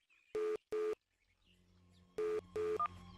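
Phone keypad tones sound as a number is dialed: two pairs of short, clear electronic beeps separated by a pause, ending in a brief tone, over a faint low hum.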